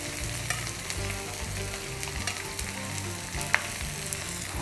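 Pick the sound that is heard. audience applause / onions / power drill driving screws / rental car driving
onions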